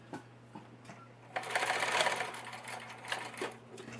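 A sewing machine stitches a 5/8 inch seam on a princess-seam garment, starting after a few light clicks into a short, close burst of rapid mechanical whirring that then slows and taps to a stop.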